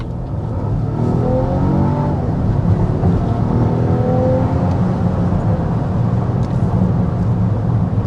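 A 2026 Volvo XC60 Ultra plug-in hybrid accelerating hard in power drive mode, engine and electric motor together, a loud close rising drone that climbs through smooth gear-like sweeps and settles into a sustained roar.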